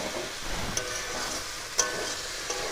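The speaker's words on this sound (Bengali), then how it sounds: "লো টু মিডিয়াম ফ্লেমে এবার জাস্ট ভেজে ভেজে নেব" Masala frying in a pan over a low-medium flame, a soft steady sizzle with a couple of faint clinks of a spoon, no voices.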